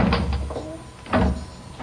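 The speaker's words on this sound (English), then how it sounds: "We'll stride purposefully through the impressive bronze doors of Broadcasting House." Heavy bronze doors of Broadcasting House open as a radio comedy sound effect, a couple of solid thuds and scraping movements, close and alone.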